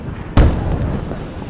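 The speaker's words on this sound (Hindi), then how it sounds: "धमाकों की आवाज और धुएं का गुब्बार आप देख सकते हैं।" A missile strike explosion in Beirut lands as one sharp, loud boom that breaks into a low rumbling roll, which fades slowly over the next second.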